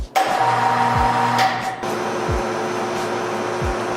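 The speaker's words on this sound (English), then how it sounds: "I'm gonna be using it to vacuum seal the rest of our meat." Vacuum sealer running while packing deer backstrap and loins, a steady loud motor whir with airy hiss, a brief change in pitch partway through, continuing close and alone.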